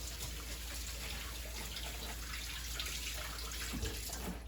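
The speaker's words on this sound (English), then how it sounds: "I'm going to wash my hands really quickly" Tap water runs steadily into a sink while hands are washed, a continuous, moderately faint broadband rush with no talking.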